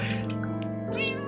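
A cat in the Minecraft video game meows loudly and close, several quick repeated mews in a row over a steady game background tone.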